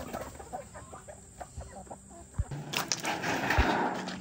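Chickens cluck in short bursts close by, with a few sharper calls toward the end amid farmyard background noise; turkeys are kept with them.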